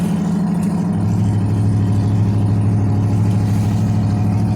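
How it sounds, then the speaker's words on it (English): A hot rod at a small-town car show idles with its exhaust opened up, a loud, deep, throbbing rumble close by that steps down slightly in pitch and holds steady. "I gotta open up the exhaust."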